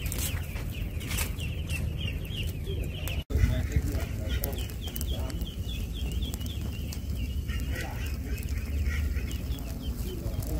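Farm ducks keep up a continuous chorus of quacks and calls under a noisy outdoor background, with people talking throughout.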